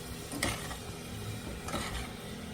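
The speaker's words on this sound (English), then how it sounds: "You want to stir it all up." A spoon scrapes and stirs seasoning salt and melting butter through onions in a pot, with a soft sizzle beneath and two brief clinks against the pot.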